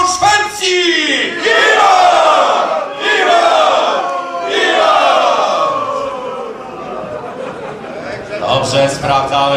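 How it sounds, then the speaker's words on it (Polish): Crowd at a historical picnic event shouting a loud collective cheer in several swelling bursts of massed voices, with some laughter mixed in. "niechaj wolno nam będzie wszystkim tu obecnym znieść okrzyk Wiwat Królestwo!"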